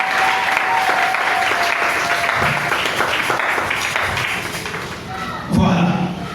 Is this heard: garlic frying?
no